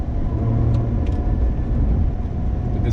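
A Lotus Evora GT moves through city traffic, its engine giving a steady low rumble close by, with brief higher noises from the street above it.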